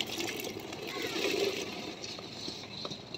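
Pickle liquid is poured slowly into a bucket, a soft continuous trickle and splash close by, with people talking over it.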